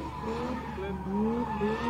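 A drift car in a qualifying round slides sideways across the start line, its tires squealing in rising, wavering tones over a loud, steady engine roar, while a commentator talks over it.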